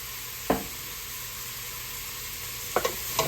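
Extra virgin olive oil sizzles steadily and softly in a pan while a spoon stirs, with a few brief knocks and scrapes against the pan.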